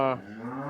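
One drawn-out Holstein Friesian cow moo, low and resonant, close by and heard on its own.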